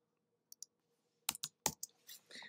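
Typing on a computer keyboard, a few soft clicks followed by a quick cluster of louder, sharp keystrokes close by in a quiet room.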